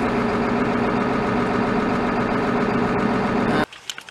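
Cold 7.3L diesel engine of a 1995 Ford F-350 running, a loud, dense, steady rumbling idle close by that cuts off abruptly near the end, leaving faint knocks and clatter.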